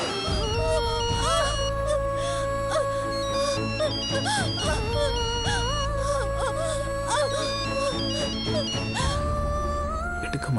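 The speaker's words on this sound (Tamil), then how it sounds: "இவ்வளவு நேரம் ரிங் போகுது" A phone rings on and on in a repeating electronic melody over background music, loud and continuous.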